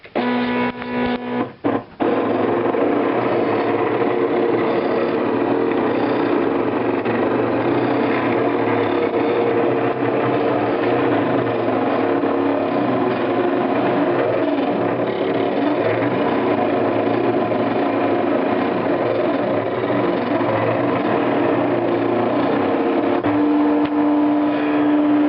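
An electric craft cutting machine slices a 9½-inch heart shape from paper, giving off one steady, loud mechanical whir and hum that holds almost unchanged throughout after a few brief clicks at the start.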